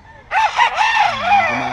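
A bulik gamecock rooster crows loudly and close at a busy pet market, one long harmonic call that rises and holds for well over a second over low market background noise.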